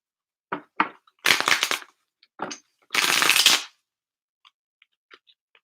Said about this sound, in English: I'm gonna reshuffle this.